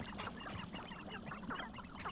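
A chicken-like creature in the video game Hogwarts Legacy lets out a busy run of quacking, clucking calls that repeat steadily against a constant game backdrop, with no talk.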